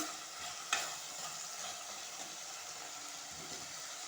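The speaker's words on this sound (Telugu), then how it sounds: "ఇలా మధ్య మధ్యలో కలుపుకుంటే వంకాయ అనేది మెత్తబడుతుందండి నూనెలో" Brinjal curry frying in oil in a pan, with a steady low sizzle and a single sharp stir or scrape of the spoon early on, then continuous quiet bubbling with no voices.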